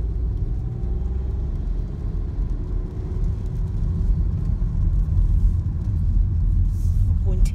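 A car engine rumbling low and steady as the car pulls away on a rainy autumn drive, with road noise filling the background and a voice faintly under it.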